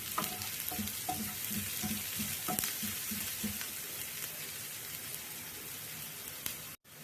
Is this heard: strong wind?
no